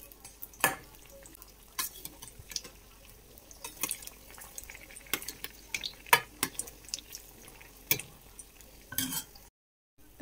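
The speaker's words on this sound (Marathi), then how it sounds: "तुम्ही बघू शकता हे आपले वडे असे छान तळत आहेत" Vadas deep-frying in oil give a faint, steady bubbling hiss, broken by sharp utensil clicks and scrapes against the pan at irregular moments.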